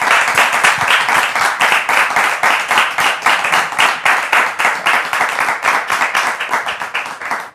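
A studio audience at the French show Point d'accord claps, loud and close. The claps land in a fast, even rhythm that keeps up steadily throughout, with no speech.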